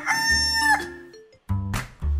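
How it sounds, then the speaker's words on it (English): A rooster crowing close by in an outdoor farm setting near a pig ark, one full cock-a-doodle-doo followed by a pause and a couple of short calls. "He is one marvellous chicken"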